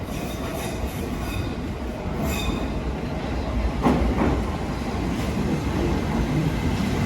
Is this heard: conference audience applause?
no